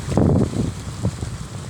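Wind buffets the microphone in low rumbling gusts by the sea, strongest at the start, then easing into softer bursts.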